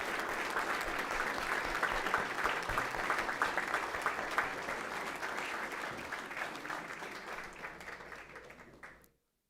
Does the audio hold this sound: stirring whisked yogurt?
no